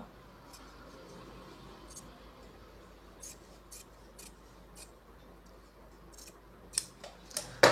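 Scissors cut blouse fabric for a false hem, a series of quiet snips growing louder and closer toward the end over a hushed room background.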